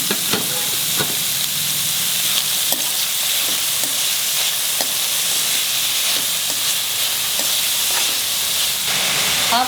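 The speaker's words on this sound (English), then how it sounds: "Finely chopped 4 onions, and I have to fry them very well till they are brown." Four finely chopped onions fry in a pan over a medium flame, giving a steady, close sizzle throughout with occasional light clicks of stirring and no talking.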